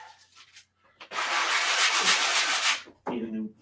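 A rough sponge dabs and rubs paint onto a canvas in a tree painting, making a loud, continuous scratchy scrubbing for about two seconds, then a shorter burst after a pause.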